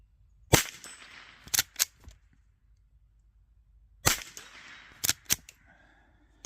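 Sharp, distant cracks of .22LR gunfire from a Rossi Gallery pump-action rifle come in two bursts of three, some followed by a brief metallic ping of bullets hitting metal targets, with quiet pauses between.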